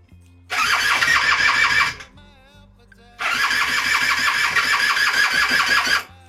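A custom moped engine with a dead battery cranks over in two long bursts of about one and a half and three seconds, loud and close, with a short pause between and no catch or start.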